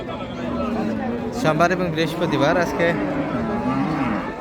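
Cattle moo at Raniganj livestock market in Nawabganj, Dinajpur, where Friesian cows with calves are sold, the lowing rising amid a steady crowd babble while someone speaks close by.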